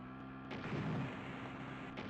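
Explosions in the 1988 computer game Ian Fleming's James Bond 007 in Live and Let Die, set in a dark tunnel: one sudden, loud, booming blast that rolls on into a rumbling tail, with a second sharp burst near the end.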